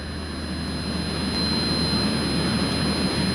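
Light airplane engine running rough from carburetor ice, a loud, continuous low droning hum with steady high whine tones heard from inside the cockpit, no talking.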